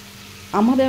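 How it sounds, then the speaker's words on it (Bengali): Fish sautéing in a pan gives a short burst of sizzling, brief and close, with a voice heard over it. "এইভাবে মাছটাকে ভালো করে একটু কষিয়ে নিচ্ছি"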